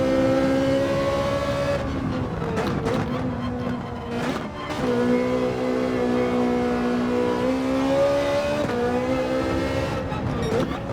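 Ferrari GT4 race car in Gran Turismo 7 revving and accelerating, its engine note climbing through gears in steady sustained pulls with brief dips at shifts, loud and close for the whole stretch.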